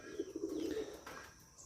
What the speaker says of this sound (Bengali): দেখুন এটা হলো রাজশাহী কবুতর, রাজশাহী গিরিবাজ আর কি